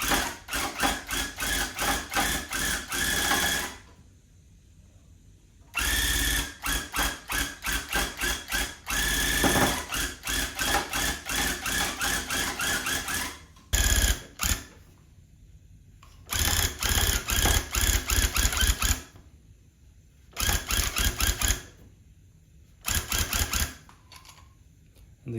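Rug tufting gun running in repeated bursts of rapid mechanical chattering, each lasting a few seconds and separated by short pauses, loud and close with no talk.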